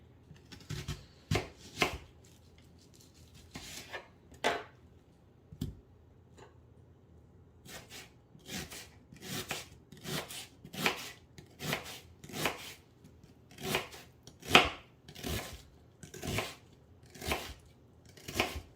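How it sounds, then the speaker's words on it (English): A knife cutting through a red onion on a board for pickling, a steady series of crisp chopping strokes close up, with a short pause partway through and no voices. "Let's go ahead and cut our second onion."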